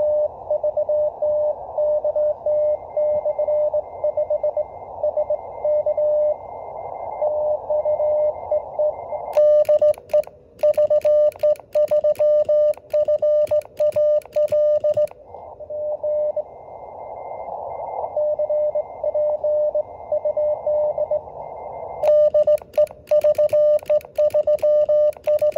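A call sign is sent in Morse code on amateur radio as a steady sidetone tone keyed on and off in rapid rhythmic bursts over faint static, with louder clicking patches at times.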